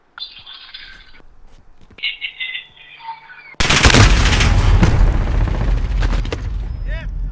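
Gunfire in Call of Duty: Modern Warfare bursts in loudly midway as a dense, sustained barrage of rapid shots and booms, following quieter clicks and scraping movement.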